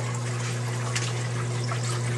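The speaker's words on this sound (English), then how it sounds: "Water then travels over those baffles around here through these 2 pipes" Steady water rushing over the baffles of a reef aquarium sump, a constant splashing wash over a low pump hum, unbroken and close, with no talking.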